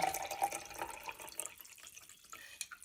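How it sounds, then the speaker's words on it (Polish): Water is poured from near by to top up a jar of a homemade lemon and honey health drink, a steady trickle that thins and fades partway through, with a few drips and splashes toward the end. "Całość uzupełniam tutaj wodą"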